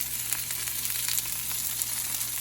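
Bacon sears in a hot pan with a steady, close crackling sizzle and small spitting pops, alone without talk.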